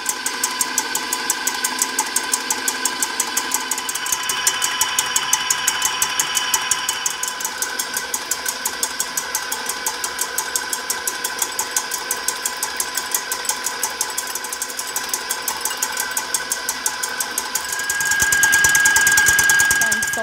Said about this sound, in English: The egg whites, I'm gonna stick into my stand mixer and whisk that up